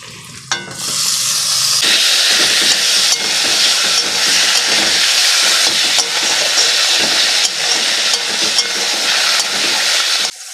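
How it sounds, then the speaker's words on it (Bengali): Tomato and ginger-garlic paste dropped onto browned fried onions for a fish curry, a loud hissing sizzle bursting in near the start and holding strong and close, with scattered stirring scrapes and no voices. "পেঁয়াজটা লাল হয়ে গেছে, এবার এর মধ্যে টমেটো আর আদা রসুনের পেস্টটা দিয়ে দেবো।"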